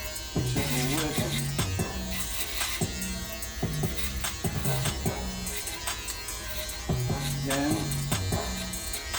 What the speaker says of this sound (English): this thing is unbelievable. It's just like, wow. Get in here. It's just ripping.